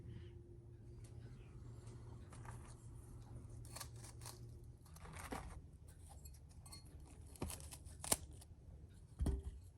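Fresh strawberries get their stems snipped off, a series of quiet, sparse cuts and light clicks in a hushed room, with a couple of sharper knocks near the end.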